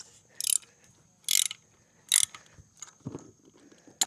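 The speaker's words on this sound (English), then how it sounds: "I have to put 205 pounds of force to remove a lug nut" A wrench working loose a stubborn lug nut on a trailer wheel, three loud ratcheting bursts spaced about a second apart, followed by softer metallic clunks and handling noise.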